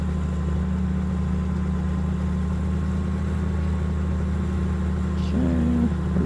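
Tractor engine in Farming Simulator 15 idling and pulling a baling trailer, a steady low drone running throughout at a constant level, with a short rising tone near the end.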